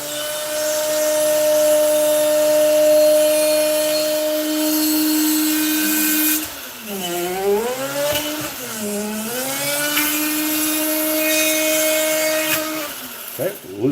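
A handheld rotary power tool cuts around the rivet of a Hot Wheels die-cast car, a loud steady whine that then dips and wavers as it bites into the metal, close up.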